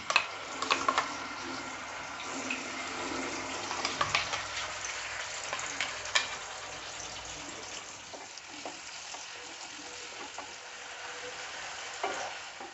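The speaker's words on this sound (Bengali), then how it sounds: "দেখো, আমি কাজু চারুমগজ আর টমেটো আদা কাঁচা লঙ্কা যে পেস্টটা করে রেখেছিলাম সেটা এবার দিয়ে দেবো।" A paste of cashew, melon seed, tomato, ginger and green chili hits hot oil over tempered spices, a close sizzle with busy scraping and stirring knocks that settles into a quieter fry toward the end, with no voices.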